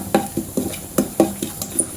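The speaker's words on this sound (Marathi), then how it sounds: "आपल्याला फोडणी जरा परतून घ्यायची आहे" A tempering of chilli and asafoetida is stirred in a pan, giving a rhythmic series of scraping, clinking strokes about every quarter second over a faint sizzle, close and clear.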